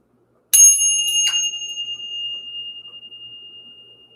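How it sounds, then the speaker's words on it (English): A small hand bell struck twice in quick succession to clear the energy before a spiritual reading, its bright, clear tone ringing out alone and slowly fading over several seconds. "Let's ring the bell."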